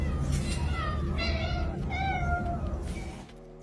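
Several cats meow one after another over a busy background with some voices, the cries close and fairly loud, ending abruptly into quieter room tone.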